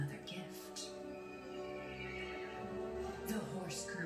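A horse neighs in the video game Resident Evil Village, a faint whinny with soft hoof clip-clops and light ambient chirps in a quiet, distant-sounding scene.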